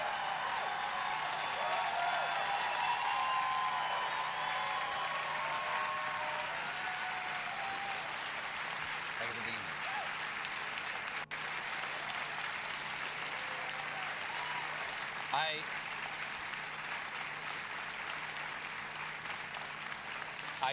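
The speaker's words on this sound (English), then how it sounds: "Applause for that" Studio audience at a late-night Colbert taping breaks into sustained applause, a broad continuous roar of clapping with a few cheers early on, holding steady throughout and fading slightly near the end.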